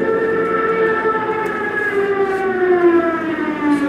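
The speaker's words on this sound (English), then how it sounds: "That sound is actually a siren on the bottom of the plane," A loud, sustained wailing siren from a WWII German dive bomber, with several slowly falling tones, droning continuously and close, with no talking.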